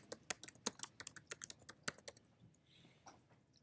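Fingers type on a computer keyboard, a quick irregular patter of close, crisp key clicks that thins out, followed by a softer faint rustle near the end, with no talk.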